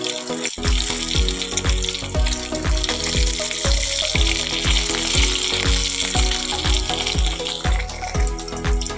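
Food frying in a pan until reddish-brown for a mixed home-style dish, with a steady loud sizzle and crackle and a regular series of knocks from turning the pieces over and over.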